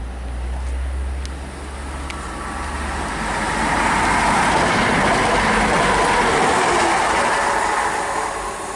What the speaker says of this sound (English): passing through now is an Arriva Trains Wales service from Milford Haven to Manchester Piccadilly